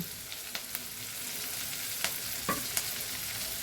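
Steady frying sizzle with a few sharp scraping clicks of a spoon stirring peas in a pan, no voices.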